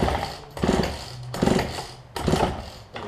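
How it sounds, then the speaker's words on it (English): Starter cord of a Husqvarna 136 chainsaw being pulled three times to check compression, each pull a rough whirring rasp with a chugging resistance, fairly close. "I did pull the chainsaw to make sure it had compression, and I will demonstrate that now."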